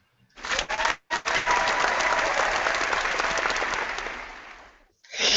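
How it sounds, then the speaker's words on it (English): A single person clapping close to the microphone during an online weekly hangout; a short burst, a brief pause, then a rapid, sustained run of clapping that tapers off before an abrupt stop. "I don't know how to do the effects, so I'll just clap"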